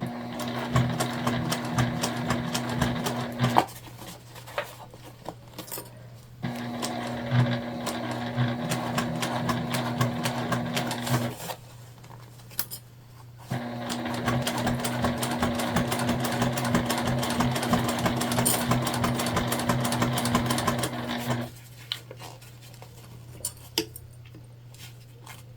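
A sewing machine stitches fabric on an Explorer Sling bag, close and steady in three long runs with a constant hum, with short quieter gaps of fabric handling between them.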